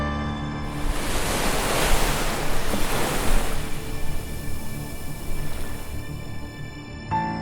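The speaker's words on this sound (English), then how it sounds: "The ocean gives us costless therapy with its healing melodies." Ocean waves break and wash ashore in a loud, continuous roar of surf, swelling strongest in the middle seconds and then receding into a softer hiss, with no voices.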